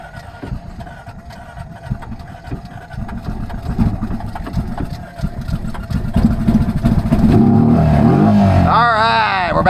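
The engine of a Honda Pioneer 500 UTV runs after an EFI choke restart, a close, rough, uneven idle that builds and grows louder toward the end, with some vocal sounds near the finish.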